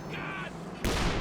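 T-34 tank cannon firing in the strategy game Company of Heroes 2, one sudden loud booming shot near the end that cuts through the steady battle ambience.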